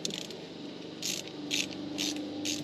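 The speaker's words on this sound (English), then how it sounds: "We got our wrench up top and a socket down here on the bottom." A wrench and socket work a bolt loose on a car's front shock absorber, giving a faint run of close metallic ratcheting clicks in short repeated bursts over a low background hum.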